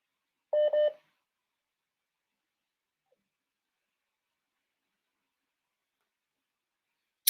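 Telephone dialing tones: two short beeps in quick succession, clear and alone in near silence, with a brief click at the very end.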